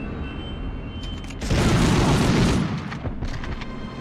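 A loud grenade explosion in the Medal of Honor WWII shooter, set in a V2 rocket plant, erupts as a broad booming blast about halfway through, then fades over softer background game sounds.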